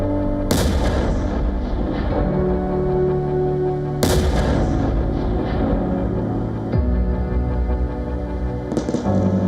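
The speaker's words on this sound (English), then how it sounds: "the bombing of Gaza began." Heavy artillery explosions and bombing in Gaza, three loud booming blasts spaced a few seconds apart, each with a long rumbling decay, plus a sharper crack at the end.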